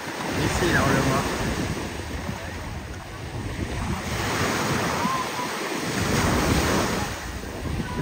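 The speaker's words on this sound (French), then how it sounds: "C'est vraiment dommage qu'il y ait autant de vagues" Sea waves roll onto a beach, a loud continuous wash of surf that swells and eases, with strong wind buffeting the microphone throughout.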